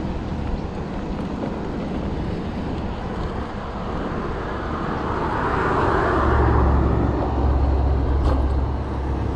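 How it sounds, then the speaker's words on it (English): Cars pass on a roadside with a shoulder, a broad, steady rush of traffic noise that swells louder as a vehicle draws near, with wind buffeting the microphone. "today there's more cars than normal"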